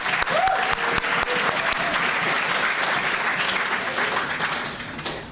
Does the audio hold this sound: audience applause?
yes